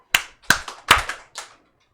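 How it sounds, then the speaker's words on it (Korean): Children clap on command at a church children's Bible event: four sharp, separate hand claps spread over about a second and a half, close and clear, with silence after. "박수 치세요."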